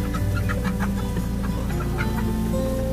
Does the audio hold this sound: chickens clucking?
yes